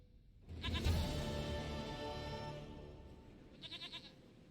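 A goat in the video game Witcher 3 gives a drawn-out, wavering bleat that is loud and close, then a shorter quavering bleat near the end, with no talking.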